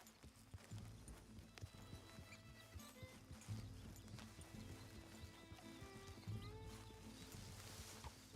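Horse in a video game clip-clopping at a steady walk, hooves ringing in a regular rhythm close by with a brief whinny, set against soft game music.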